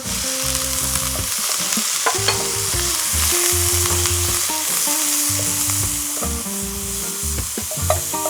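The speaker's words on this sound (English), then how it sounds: "Get that nice and brown. In go our prawns." Prawns and fresh garlic frying in a pan while being stirred, with a steady sizzle and repeated scraping and clinking strokes of a utensil, close and fairly loud, no talking.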